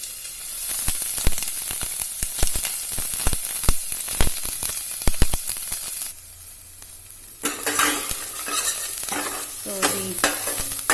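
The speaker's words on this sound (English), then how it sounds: "onion and garlic is fried" Onion and garlic fry in hot oil in a pot for Russian borscht, sizzling with repeated scraping stirs, and a voice briefly speaks.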